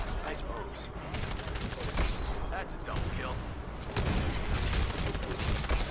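Rapid bursts of gunfire crackle in an Xbox video game, dense and continuous, under excited shouting from players.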